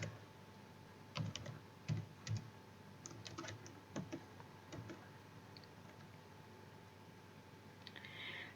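Fingers tap a computer keyboard while HTML code is typed, a sparse, uneven run of quiet key clicks in short clusters over a faint steady hum, then a lull with no voices.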